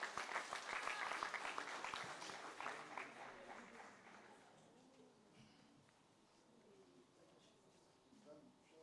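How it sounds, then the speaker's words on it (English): Applause for a speaker at a district awards function, a burst of many hands clapping strongly for about four seconds before fading out, leaving quiet room sounds and faint voices. "Ntate Dikotsi, a round of applause"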